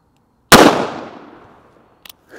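A single sharp gunshot from a .22 Magnum firing a 40 grain jacketed hollow point into ballistics gel, one loud close crack with a decaying ring, followed by faint small clicks.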